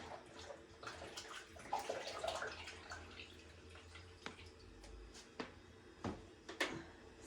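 Lukewarm water being poured into a large batch of yeasted village bread dough, a quiet trickling and splashing with a few soft knocks and drips, faint and alone.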